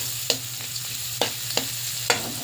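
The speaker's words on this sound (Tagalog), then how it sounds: "Sunod na natin ang sibuyas" Onions frying in a pan, a steady sizzle with four or five sharp stirring scrapes at irregular intervals over a low constant hum, all close by.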